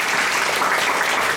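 An audience claps for the teachers at a presentation event, a dense, close burst of applause sustained throughout the short moment.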